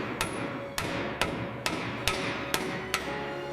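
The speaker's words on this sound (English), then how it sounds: "Hammering in the new, greased track pins to join the links." Greased steel track pins are hammered into the links of a Tiger I tank track on a workshop floor, seven sharp metallic strikes landing at a steady pace, each one ringing briefly before the next.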